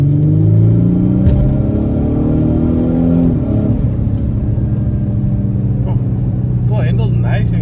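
Audi S model with a 3-liter TDI engine driving at speed, a steady low rumble and engine drone with a brief rising surge partway through, heard from inside the car under people talking.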